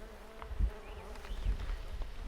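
Bees buzz around purple flowers on a mountainside near an old mine, a soft continuous hum with a few passes drifting closer and louder, with no voices.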